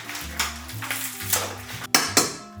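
Butter dropping into a KitchenAid stand mixer's metal bowl during holiday baking: a series of soft clunks and scrapes of utensil against bowl, with a couple of sharper knocks near the end, close and moderately quiet.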